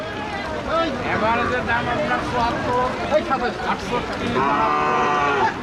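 Native bulls and cows low repeatedly at a busy cattle market in Rajshahi, with loud overlapping moos above a steady crowd hubbub and people talking nearby.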